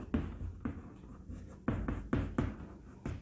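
Chalk or marker strokes on a classroom board during a Class 10 chemistry lesson, a series of short, distinct scratchy taps and scrawls arriving in irregular bursts, close and clear with no talking.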